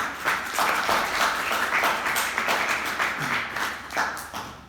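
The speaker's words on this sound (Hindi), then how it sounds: "तो एक बार जोरदार ताली।" An audience at a live talk session bursts into sustained, loud applause, with dense clapping holding steady for several seconds and swelling in a few waves.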